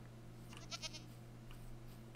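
Goats in Minecraft give a few short bleats, faint and somewhat distant, over a steady low background hum.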